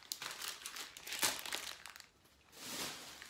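A plastic package is crinkled and rustled up close while being opened, with irregular bursts of crackling and one sharper crinkle, quiet overall and with no talk.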